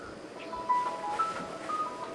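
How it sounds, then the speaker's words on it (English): A telephone gives short electronic tones, a few brief beeps at moderate loudness against a quiet room background. "is that phone again?"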